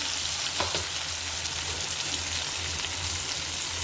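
Tomatoes with chilli powder fry in a pan for a drumstick-pod dry curry, a steady close sizzle with faint stirring scrapes and no talk.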